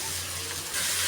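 Jute leaves frying with onions in a pan make a close, steady hiss and sizzle, with a low hum underneath. The sound grows slightly louder toward the end of the brief moment.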